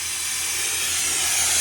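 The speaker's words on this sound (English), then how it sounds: "we've got some water running through this thing, some steam running through it" Steam hisses steadily through an old Robb Armstrong steam engine being warmed up for its first start in decades, a loud continuous broadband rush growing slightly stronger, close by and without talk.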